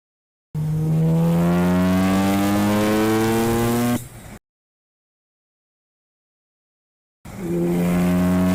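A Mazda FD RX-7 accelerating hard on a test drive, its engine note climbing loudly through a long pull before cutting out, then after a few seconds of silence another hard pull begins.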